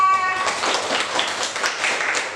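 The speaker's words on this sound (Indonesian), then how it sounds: "Tepuk tangan dulu yang lainnya." Applause from a class of Indonesian-language teachers during a poetry workshop, a dense steady patter of hands lasting the whole stretch, with faint voices mixed in.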